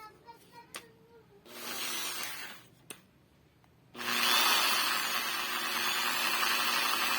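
A lightweight Bosch corded hand drill with a speed controller whirs loudly and steadily after a couple of short bursts, its high motor whine filling the space alone.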